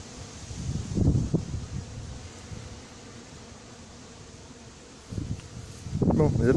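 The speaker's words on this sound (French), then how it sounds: "Là, le frelon vole, il se fatigue." A hornet flies near honeybees inside an anti-hornet tent of 6 mm mesh in Montgeron, giving a low, uneven buzz in short bursts that swell near the start and end over steady outdoor background noise.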